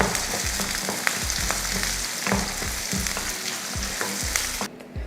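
Sliced onion with dried red chillies and green chillies sautéing in oil in a pan, a steady close sizzle broken by repeated scraping stirs, with no talking.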